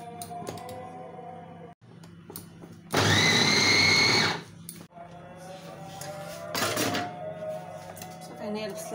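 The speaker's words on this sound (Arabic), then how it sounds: "انا البصله ديالي هي طحنات، نطحنها حتى تطلق لينا داك الماء ديالها" A kitchen blender grinds onions in two bursts, a loud roaring whir for about a second and a half, then a brief shorter pulse, with someone talking between and after the bursts.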